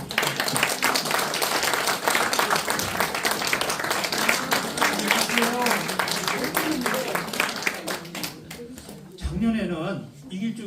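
An audience at a traditional New Year's Eve palace folk play event applauds principal Lee Gil-ju, a long burst of clapping mixed with voices and cheers that thins out toward the end.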